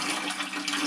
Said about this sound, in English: That oil is going to start coming out of the hose.